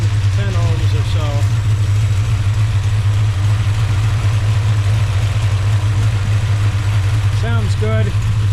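A Mercury Cougar Eliminator with a 445 engine idles steadily after its carburetor idle screws are adjusted, a constant low rumble that runs through the whole stretch, with a few brief higher sounds near the start and end.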